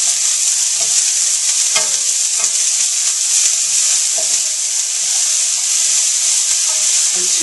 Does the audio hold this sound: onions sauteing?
yes